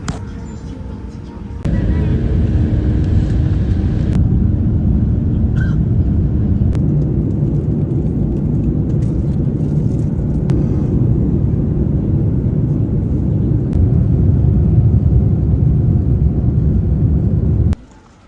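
Steady low cabin rumble inside a Singapore Airlines airliner before takeoff, constant and loud throughout after a quieter opening moment, with faint scattered clicks and a possible voice somewhere in the background.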